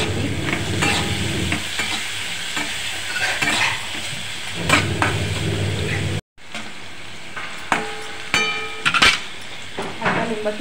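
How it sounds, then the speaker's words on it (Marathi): Green chilies with sugar and fresh grated coconut are stirred in a hot pan, giving a steady close sizzle with scraping strokes, then a brief cut and sharper clinks of the spoon against the pan. "आता हे सगळं मिक्स करून घ्यायचं आहे व्यवस्थित."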